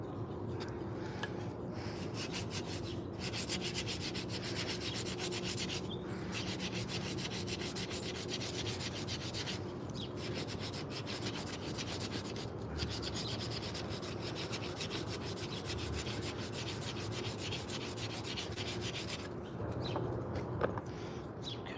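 Steady rubbing and scraping on a carved forest-wood spoon as its dents are slowly worked out, a continuous quiet sanding-like texture with a few brief pauses and no talk.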